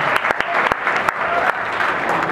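Audience at a street dance winter showcase claps, a dense burst of applause with sharp individual claps standing out near the start, a voice briefly over it.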